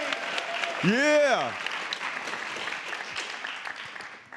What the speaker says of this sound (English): Give a round of applause to TAG.